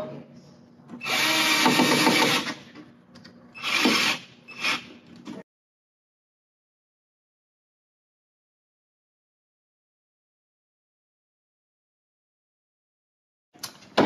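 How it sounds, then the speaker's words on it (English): A power drill drives screws to mount a plastic vent to a wall, with two loud close bursts of whirring separated by brief pauses, followed by a long silence. "I'm gonna take the screws that come with it, back my drill bit, and I'm going to mount it to my wall."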